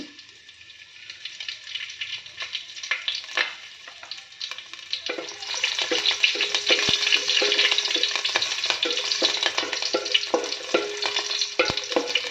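Green chillies sizzling in hot oil for a fish curry, a steady close frying hiss that grows louder and denser partway through as they hit the pan, with occasional stirring clicks and no talk.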